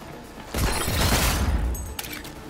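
A dense burst of rapid gunfire in Cyberpunk 2077 Phantom Liberty, a loud, close fusillade lasting about a second, followed by a sharp single crack.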